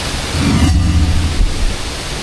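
Tirto Galuh waterfall in Blitar roars as a steady, broadband wash of falling water, loud and continuous with deep low rumble, no voices.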